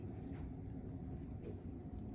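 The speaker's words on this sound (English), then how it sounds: "just in time, a little train" A low, steady rumble of a train rolling past outside a hotel in Bangkok on a rainy day, continuous and fairly loud, with no voices over it.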